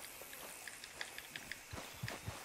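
Quiet, irregular hoof clops on a hard surface, a few light taps scattered over a couple of seconds, with soft rumbling thuds near the end. Horse walking in the video game Red Dead Redemption 2.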